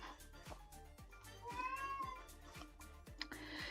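A cat lets out a few long, wavering screaming meows in the background, partly buried under steady rhythmic music with a regular pulse.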